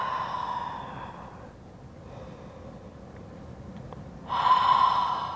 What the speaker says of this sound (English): Let's start by just taking a few deep breaths in